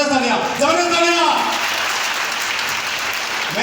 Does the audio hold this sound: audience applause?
yes